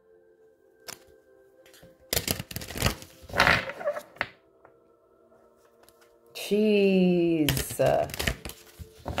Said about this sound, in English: You saw those three shuffles and look what ended up back at the bottom.